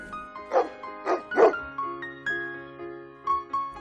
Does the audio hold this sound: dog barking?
yes